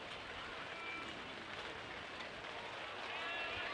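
Steady rain pours down over an outdoor baseball stadium, a dense, continuous hiss that stays even and unbroken throughout.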